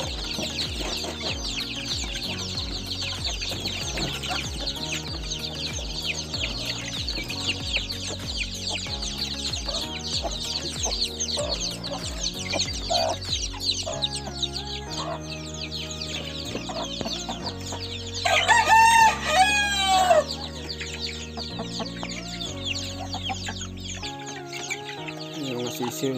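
Ducklings peep in high, thin chirps over other steady background sound, rising to a brief flurry of calls near the end.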